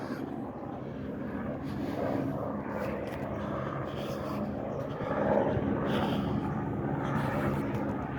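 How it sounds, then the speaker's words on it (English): A helicopter flies overhead during a police response at a school in Blaine, Washington, its steady rotor drone lasting throughout at moderate distance. "Helicopter in the air."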